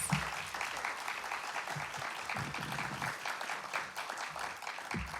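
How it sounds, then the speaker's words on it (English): Memorial lecture audience gives a round of applause, a full, sustained patter of many hands clapping in a hall, steady and moderately loud, with a few faint voices and thumps underneath. "Another round of applause, please, for Dr. Rosalind Clark Artist."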